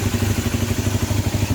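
A Honda CB250N motorcycle engine runs with a steady low throb, the revs hanging and pulsing slightly up and down from carburettors needing adjustment; close and fairly loud, no voices.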